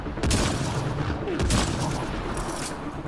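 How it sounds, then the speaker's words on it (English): In Mass Effect: Andromeda a sniper rifle fires amid heavy gunfire, giving a dense burst of loud, close shots and booms that last about three seconds, with no talk. "I like my sniper rifle."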